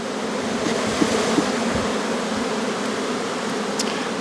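Honey bees buzz around an open hive in mid-May at an apiary, a dense, continuous close drone with no voices.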